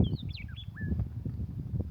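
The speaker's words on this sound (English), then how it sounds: "You see the bird? You hear the bird?" A bird in open grassland gives a few quick, high, sliding chirps and whistles early on, fairly clear above a low rumbling background of wind or handling noise.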